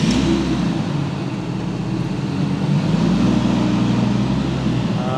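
A Lamborghini Gallardo left abandoned runs its engine steadily while being moved in reverse and forward, a close, even low rumble with slight rises in revs and no talking.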